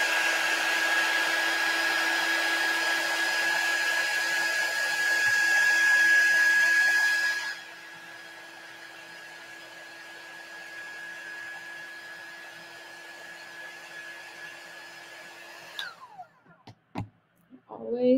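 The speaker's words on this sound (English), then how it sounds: "let me grab my heat tool. Let's just heat things up a little bit." A heat tool blows hot air over wax on a wooden tier tray piece, a loud steady whirring hiss with a thin whine that drops in intensity midway, then clicks off near the end.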